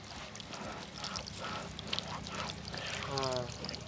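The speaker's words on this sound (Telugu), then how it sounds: "ఏదో ఒక చోటు నుంచి వాటర్ లీక్ అవుతూనే ఉన్నాయి" Water leaking through a patch of tape on a pipe trickles and splashes in uneven spurts, close by, with brief squeaky and handling sounds mixed in.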